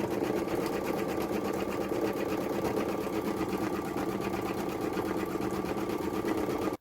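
An embroidery machine stitches a photo design in a fast, even mechanical chatter, close and steady throughout with no pauses.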